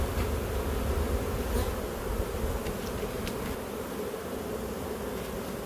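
Honeybees buzz densely around an open beehive colony, a continuous close hum of many wings with no pauses or talk.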